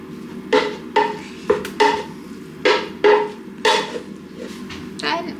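Beef mince being broken up with a utensil as it cooks in a pan, a series of about eight distinct scraping pushes at a slow, irregular rhythm, close and fairly loud.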